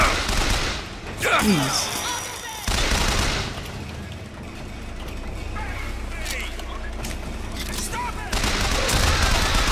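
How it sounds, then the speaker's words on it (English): Gunfire bursts in BioShock Infinite come in loud clusters amid mechanical whooshes and game effects, with a man briefly exclaiming over the shooting. "Firing wildly."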